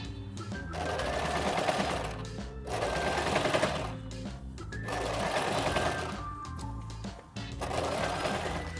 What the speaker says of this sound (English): you're going to sew in one long line from the end of the facing all the way down to the end of the hem.